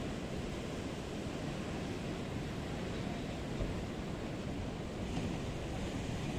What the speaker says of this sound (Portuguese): O mar bate na pedra e faz aquele chafariz maravilhoso